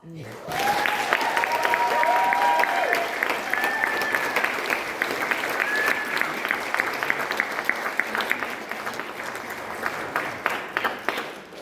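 Sustained audience applause at an arts fundraiser gala, a dense, steady wash of many hands clapping close and loud for over ten seconds, with a few cheers and faint voices rising over it.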